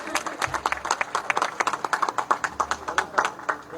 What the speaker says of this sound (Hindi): जोरदार तालियों से मंत्री जी का स्वागत।